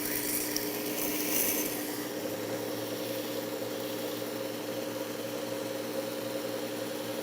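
Grinding a broken knife tip against coarse 120-grit abrasive, a steady continuous rasping hum that holds at an even level throughout and runs with a stronger burst near the start.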